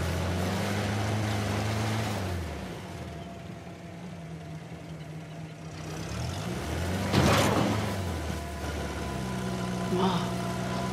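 A motorboat engine drones steadily while driving through water in Uncharted: The Lost Legacy, its pitch shifting up and down with throttle and a splashing surge midway, under intermittent talking voices.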